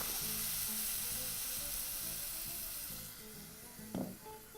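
Butter sautés in a pan as the base for a cauliflower gratin sauce, a steady close sizzle with soft stirring taps that fades slightly near the end.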